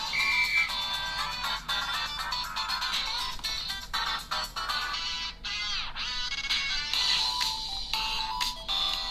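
An Infinix Hot 30 phone plays its ringtone at full volume through its speaker, a bright, busy electronic melody that runs steadily for about nine seconds with no voices.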